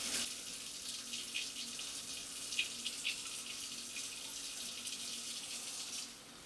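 Tap water runs steadily into a pot of potatoes sitting in a kitchen sink, a continuous hissing splash with faint gurgles as the pot fills, close and alone without speech.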